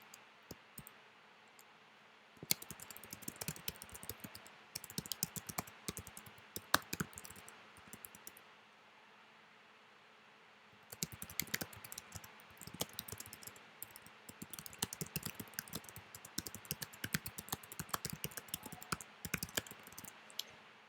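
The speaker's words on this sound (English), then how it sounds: "I'm going to type it exactly word for word the way that it is seen" Someone types on a computer keyboard, copying an essay excerpt word for word. Bursts of close, rapid key clicks are broken by a quiet pause in the middle, with no talking.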